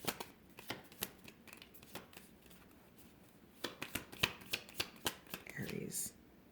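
Tarot cards being shuffled and snapped in a steady series of crisp, sharp riffles, close and fairly quiet, with a brief soft voice near the end.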